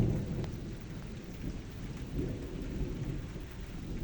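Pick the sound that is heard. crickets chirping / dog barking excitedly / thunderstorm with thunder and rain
thunderstorm with thunder and rain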